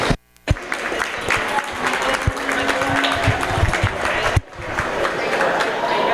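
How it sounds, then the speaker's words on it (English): Applause from the crowd at a Holstein calf class in a dairy cattle show, steady dense clapping with a brief dip partway through, some voices mixed in. "Give them a round of applause."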